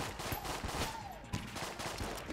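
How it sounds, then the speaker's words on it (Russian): Colt pistol firing in the game Enter the Gungeon, a quick series of faint, sharp shots spaced irregularly amid other busy game effects. "И этот Кольт, он ничего так долбит."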